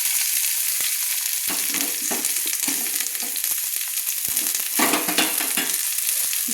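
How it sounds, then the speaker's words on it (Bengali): About 200–250 grams of chopped onions frying in oil, a close, busy sizzle broken by frequent stirring clatters and scrapes of a utensil against the pan, no one speaking. "এবার আমি এতে দিয়ে দিচ্ছি পেঁয়াজ।"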